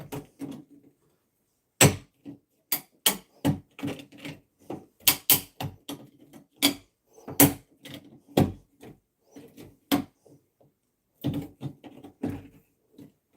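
A hand sheetrock saw cuts into drywall in sharp, uneven rasping strokes, close and fairly loud, with short pauses between bursts.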